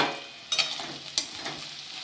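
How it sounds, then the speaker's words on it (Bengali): Sliced okra frying in a covered pan, a quiet steady sizzle with a couple of sharp spatula scrapes and light stirring clatters. "10 মিনিট ঢাকা দিয়ে হালকা আছে ভেন্ডিটা এরকম ভেজে নিয়েছি, ভাজা হয়ে গেছে।"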